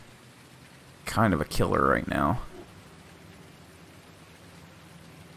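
Steady rain hiss from Farming Simulator 19 gameplay runs as a constant wash of noise, with someone talking briefly over it in the middle.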